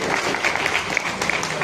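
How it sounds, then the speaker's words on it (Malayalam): Villagers at a community fundraising gathering clapping together, a short, fairly loud burst of applause with voices blended in underneath. "എല്ലാവരും ഒരു കയ്യടി, നല്ല ഉഷാറില്"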